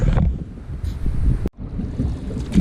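Steady wind buffets the microphone in low rumbling gusts on a river canoe trip in the Delaware Water Gap, with a brief dropout midway before the blustery roar resumes.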